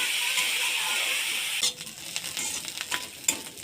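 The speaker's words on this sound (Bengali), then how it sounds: "তেলটা গরম হয়ে গেছে, এবার শুকা চিংড়িগুলো ভেজে নেব" Dried shrimp fry in hot mustard oil with a loud, steady sizzle that drops after a moment into quieter frying broken by stirring scrapes and clicks close at hand.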